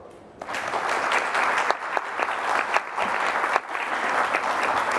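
An audience bursts into sustained, loud applause welcoming an honoured guest, a Vendée Globe sailor, the clapping starting abruptly and holding steady throughout.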